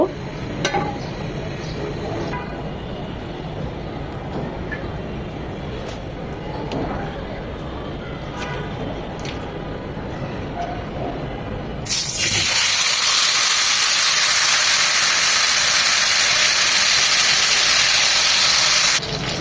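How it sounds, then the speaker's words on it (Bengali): Tandoori fish fries in about four spoons of soybean oil in a pan. A softer low hiss sits under a voice at first, then a loud, bright, continuous sizzle bursts in and holds steady. "এখন আমরা ফিশটা ভাজতে চলে যাবো প্যানে চার চামচের মতো সয়াবিন তেল দিয়ে দিয়েছি"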